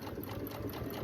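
A sewing machine top-stitches fuzzy fabric at close range, its needle chattering in a fast, even rhythm for about a second.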